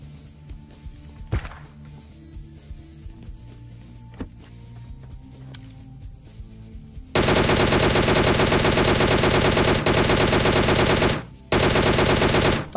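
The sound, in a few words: gunfire, AWM sniper rifle shots in video game PUBG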